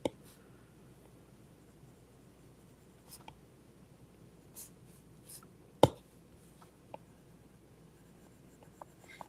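A pencil scratches and scribbles on paper in short, uneven strokes, close and quiet, with a few sharper taps and no voices.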